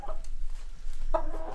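A farm chicken in a coop gives a few short clucks, one near the start and a louder burst near the end, in a quiet, slightly muffled setting.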